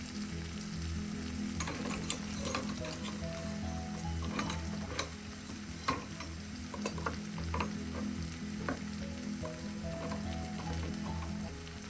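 Chili, Kashmiri chili, coriander and garam masala powders fry in hot oil for a mushroom roast, a close, steady sizzle broken by frequent scraping and clinking of a spoon stirring the pan, no voices.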